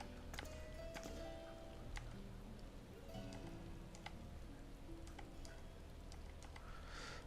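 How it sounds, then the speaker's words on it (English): Continuous soft rainfall in the video game Final Fantasy XIV: Endwalker, with scattered sharper drip-like ticks over a low steady hum, fairly quiet and without talk. "It's raining. Oh my goodness."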